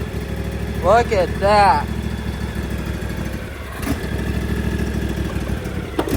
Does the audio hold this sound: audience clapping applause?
no